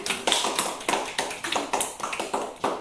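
Children in a third-grade classroom clap their hands together in a brisk, steady burst of applause, the sharp claps repeating evenly at close range with no talking over them.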